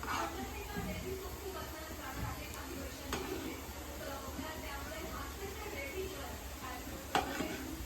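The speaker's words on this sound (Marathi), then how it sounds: "तर तेल गरम झालं होतं, मी कोथिंबीर वडी टाकली याच्यामध्ये." Kothimbir vadi, coriander fritters, frying in hot oil over a medium flame, giving a steady, even sizzle throughout with a few faint clicks of utensils close by.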